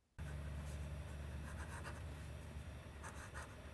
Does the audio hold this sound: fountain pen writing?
yes